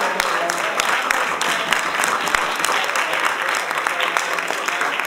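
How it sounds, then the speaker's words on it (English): An audience at a round-table session on biological communication breaks into sustained applause, dense and fairly loud clapping from many people throughout, with a few sharper individual claps standing out. "So applause to yourself, applause to the family, applause to the microphone."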